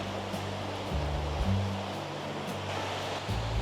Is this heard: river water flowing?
yes